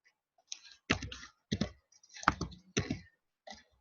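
Typing on a computer keyboard: quiet clusters of plastic key clicks in short bursts separated by brief pauses, close and faint.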